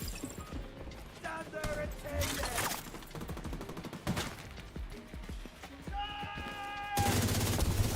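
Gunfire in a Ubisoft shooter game in a dark interior, repeated bursts of rapid shots and sharp impacts layered over tonal in-game music and effects, loud and dense throughout.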